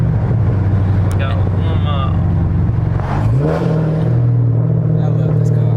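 A loud Dodge Scat Pack engine drones and revs steadily from inside the car, with a brief rise in pitch midway and voices talking over the rumble.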